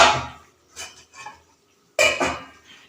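Tomatoes tumble into a pan of cabbage and potato curry, two brief clattering bursts with a spoon knocking against the pan, close and fairly loud.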